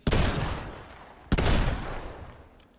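Two close, loud pistol shots in the Fortnite video game, about 1.3 seconds apart, each a sharp crack with a decaying tail and no voices.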